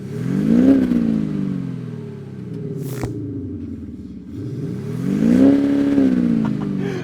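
An SUV engine revs up twice with a swelling, droning synthesized exhaust tone piped into the cabin, rising and falling in pitch, heard from inside the vehicle.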